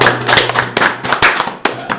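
An audience claps at a talk-show style event about a cargo business, a short burst of brisk, close, uneven hand claps.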